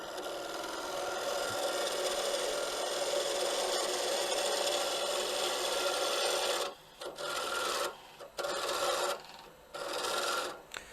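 Blade carving a wooden wand, giving a dry rasping scrape that runs continuously for several seconds, then breaks into short repeated strokes separated by brief pauses, close and fairly loud.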